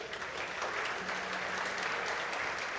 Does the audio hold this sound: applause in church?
yes